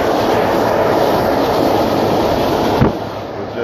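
A train runs on rails during a ride in Romania, a loud steady rumble and rush heard from on board, with a single sharp clunk near the end.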